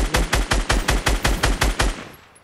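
Rapid automatic gunfire in Fortnite, aimed at a rock: about ten evenly spaced shots in quick succession, close and loud, trailing off at the end without any talking.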